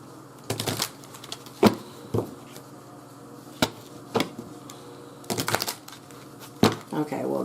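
Playing cards are shuffled in a series of sharp, riffling bursts spaced irregularly, some single and some in quick clusters, over a quiet background with faint voices nearby.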